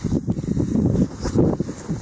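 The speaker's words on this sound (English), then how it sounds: "Sorry about the wind, it's going to be a little bit of an issue" Wind gusts buffet the microphone out on frozen Lake Simcoe during an ice fishing trip, a close, steady, rumbling roar that swells and dips for about two seconds.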